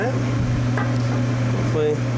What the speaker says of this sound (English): get a nice little sizzle there going